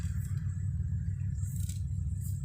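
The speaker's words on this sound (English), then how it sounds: "the sound of traffic on a back road" Traffic on a back road in Volusia County, Florida, at dusk: a continuous low rumble of passing vehicles, steady and moderately loud, with faint higher hiss swelling as cars go by.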